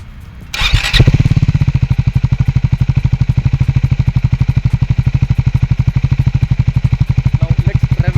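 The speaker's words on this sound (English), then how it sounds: "Let's start the engine." A Triumph Scrambler 400X motorcycle engine cranks briefly with a starter whir, fires, and settles into a loud, close, steady thumping idle that holds evenly to the end.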